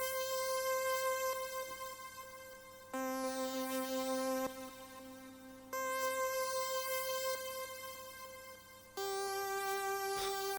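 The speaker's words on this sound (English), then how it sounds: "The last musical instrument I used is a synth." A synth part from a hip-hop beat, sustained tonal notes changing in blocks every few seconds, fairly soft and alone with no talk.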